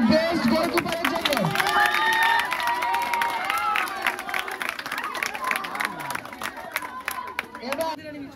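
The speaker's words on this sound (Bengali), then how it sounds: "জোরে হাততালি বেস্ট গোলকিপারের জন্য।" A crowd at a school football final claps and cheers for the best goalkeeper, busy outdoor clapping mixed with shouts and chatter, fading somewhat toward the end.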